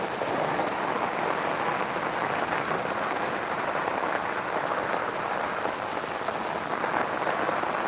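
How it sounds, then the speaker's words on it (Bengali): Steady, dense rain pouring down in Gazipur during a heavy storm, a continuous broadband hiss with scattered drop patter, constant and loud throughout with no voices. "দেখেন আকাশের অবস্থা খালি বৃষ্টি আর বৃষ্টি হচ্ছে"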